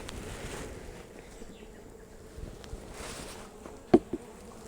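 A few straggling honey bees buzz around a beehive, a soft, close, wavering drone with light knocks near the end, alone without talk.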